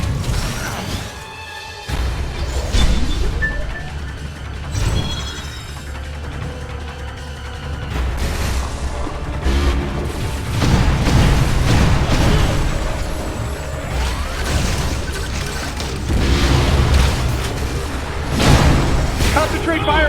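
Freeze guns firing and explosions in the video game Metroid Other M, with booms, mechanical clanks and bursts at loud, close range through a battle scene, mixed with game voices talking.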